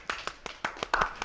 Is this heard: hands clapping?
yes